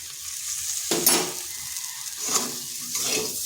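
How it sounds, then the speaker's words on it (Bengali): Potatoes and okra for Punjabi-style bhindi masala cooking in a pan with garam masala over a low flame: a steady close sizzle with a few scraping stirs, no voices. "এবার গরম মশলা দেওয়ার পর 2 থেকে 3 মিনিট স্লো আঁচে এইভাবে রান্না করে নিচ্ছি।"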